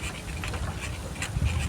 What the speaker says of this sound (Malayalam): ഇവിടെ 1-2 നായ്ക്കളൊന്നും അല്ല കേട്ടോ. ഇഷ്ടം പോലെ നായ്ക്കളുണ്ട്.